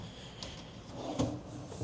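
Hotel room drawers slid open, giving two or three faint wooden scrapes and a soft knock, close and quiet against a low room hiss, with no talking.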